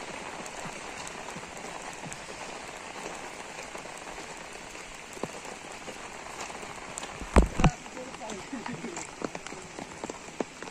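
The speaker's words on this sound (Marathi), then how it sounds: "बघू शकता सकाळी भरपूर पाऊस पडतोय." Heavy morning rain in a forest, a dense continuous patter on leaves and surfaces, close and steady, with a few sharper knocks and rustles near the end.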